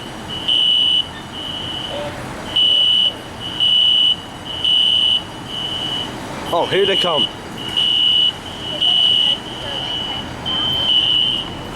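Repeated loud pulses from a sounding fire alarm carry on throughout, with someone briefly speaking over them midway.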